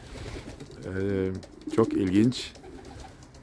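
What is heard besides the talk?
young homing pigeon cooing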